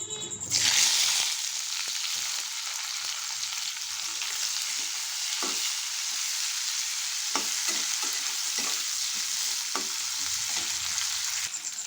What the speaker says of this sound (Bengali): ক্যাপসিকাম কুচি পেঁয়াজ কুচি টমেটো কুচি এই তেলের মধ্যে এবার এগুলোকে একটু আমি ভেজে নেব